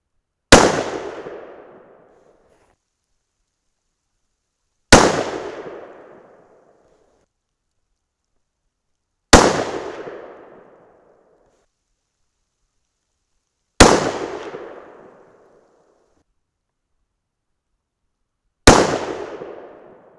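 Five sharp, loud 6 PPC rifle shots fired one by one with 68gr Bart's Ultra bullets over N133 powder, each a hard crack with a short decaying tail, spaced about four to five seconds apart with no talking.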